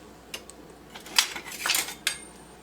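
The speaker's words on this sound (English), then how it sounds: "I need a stainless steel spoon" A stainless steel spoon clinks and scrapes against a pot of peanuts being stirred, making several sharp metallic taps and a brief rattling scrape, close and fairly loud, with no talk.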